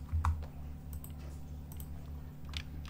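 Computer keyboard keys clicking in scattered, irregular taps while Python code is typed, soft and close over a low steady hum.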